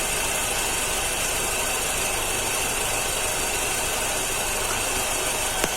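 A Volkswagen EA111 engine runs with an intermittent misfire, producing a constant, loud mechanical drone with a ratchety, uneven texture and no speech.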